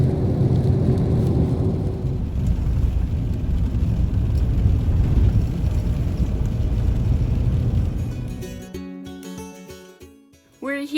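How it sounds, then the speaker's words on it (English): Heavy, steady rain pours down around a truck camper at the Alaska border, a dense close hiss that holds for several seconds and then thins out. A few scattered drips and knocks follow near the end. "Too bad it's raining."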